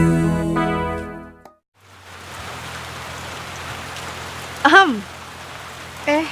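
Steady rain falls across most of the stretch after a brief musical passage and a moment of silence, with a couple of short sharper sounds breaking through the continuous patter.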